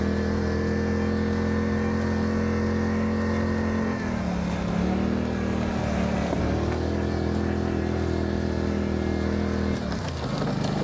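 Polaris Sportsman XP 1000 ATV engine runs steadily close by in a forest, a constant droning hum that dips and shifts in pitch a few times as the throttle changes.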